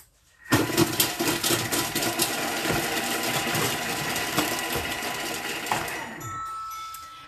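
A kitchen robot chopping chives at speed 5 for about five seconds, a loud, steady motor whir with rattling blades that starts abruptly, runs continuously and then cuts off.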